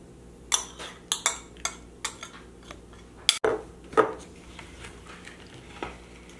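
Melted butter, sugar and eggs stirred together in a bowl for pizzelle batter, giving a run of uneven spoon clinks and scrapes against the bowl, fairly close with no talk.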